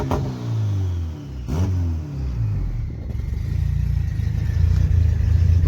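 A Honda car engine sits on launch control on a hot day, holding a steady, loud revving rumble that briefly dips and swells before rising to a sustained higher drone.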